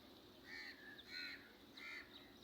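Crows caw three times at a distance by a lake in Karachi after rain, harsh calls spaced about half a second apart over faint background hiss.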